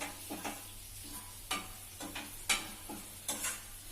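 Spices with turmeric powder fry softly in a pan while being stirred, giving a faint sizzle under a handful of sharp spoon scrapes and clinks against the pan.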